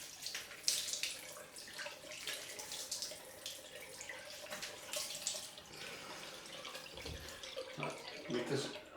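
Tap water running and splashing as alum is rinsed off a freshly shaved face, a steady wash of water noise with intermittent splashes close by and a voice speaking over it.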